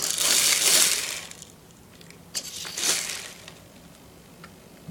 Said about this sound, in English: the spreader is attempting to turn